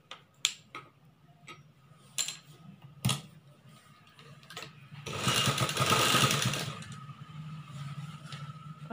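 A sewing machine stitching a chudidar top gives scattered sharp clicks and taps, then a short burst of fast, whirring stitching for about two seconds before settling into a lower hum, with no voices.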